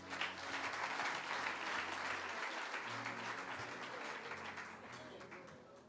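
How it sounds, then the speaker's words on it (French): A church congregation breaks into loud, sustained applause, a dense wash of clapping that holds steady for several seconds before slowly thinning out, with some voices faintly mixed in. "Acclamez-les très fort"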